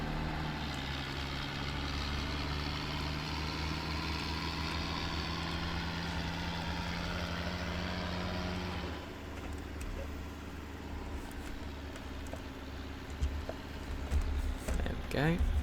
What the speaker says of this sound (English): It has one of those like nice kinda half rough sounding engines. Bit of a growl to it, like.